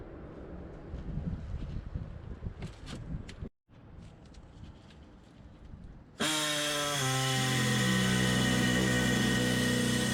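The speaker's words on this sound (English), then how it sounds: "going to be using my air saw right here" A pneumatic air saw cuts through brake parts on a 1992–99 OBS Chevy truck during a rear disc brake conversion. Quieter rustling and handling noise give way to a loud, steady, high-pitched whine that holds to the end.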